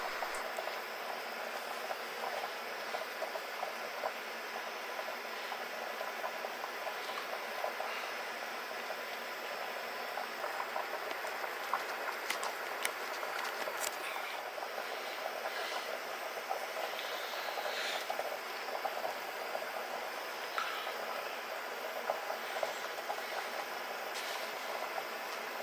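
Potatoes boiling in a pot of water on a stove element, a steady broadband hiss and bubbling that runs unbroken for the whole stretch, fairly close, with no talking.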